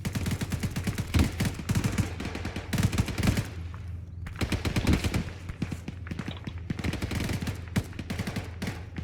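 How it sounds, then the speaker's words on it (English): Heavy incoming gunfire in the military shooter ARMA 3, with dense bursts of automatic fire and sharp cracks that pause briefly midway and then resume, loud and close throughout. "I pop my head up. I take huge fire."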